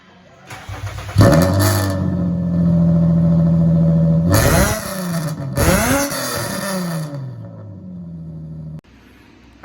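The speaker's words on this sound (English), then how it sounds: "You guys heard the exhaust." An Infiniti G35 with a custom exhaust after a muffler delete starts up and idles loudly, broken by two sharp throttle blips that rise and fall, before the engine cuts off near the end.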